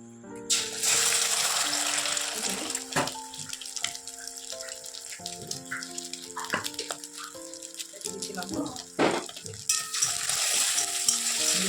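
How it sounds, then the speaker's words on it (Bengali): An egg frying in a little oil in a pan makes a continuous sizzle with scraping and stirring clatter, over a faint steady tonal hum. "একটু তেল আছে চলো ডিমটা ভেজে নিই"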